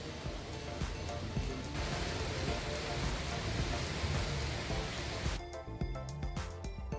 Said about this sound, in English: it was raining heavily